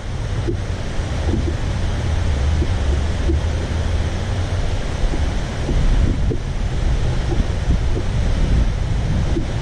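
Steady wind roars outdoors by the water during gar fishing, a constant loud rush and microphone buffeting across the whole stretch, with low surf-like rumble beneath and no talk.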